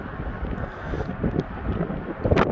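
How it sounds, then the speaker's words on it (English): Gusty wind buffets the microphone outdoors on a windy day in Iowa, a steady low rumble that swells and dips, with a louder gust near the end. "It's a windy day."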